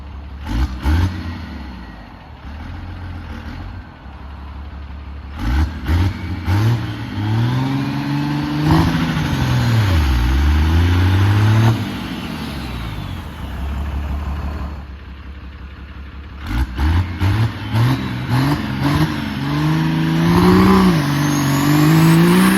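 A P-pumped 24-valve Cummins diesel truck engine revs hard during a backyard burnout, loud rising and falling roars with sweeping pitch, bursts separated by brief idle lulls, close and alone.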